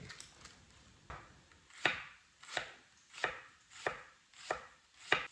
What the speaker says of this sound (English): We're gonna slice the onion.